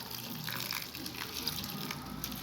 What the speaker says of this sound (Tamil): இது கொஞ்சம் கொஞ்சமாக சுடு தண்ணி ஊற்றி